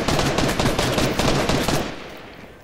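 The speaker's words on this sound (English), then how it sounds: "They're still firing at us" Rapid automatic gunfire in the video game Fortnite, a dense burst of shots lasting about two seconds before fading out.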